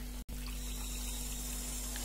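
Squeezed bottle gourd water pours into a cooking pan of heated oil while making lauki kofta, giving a steady, continuous close-up rush of liquid that lasts throughout after a brief gap at the start.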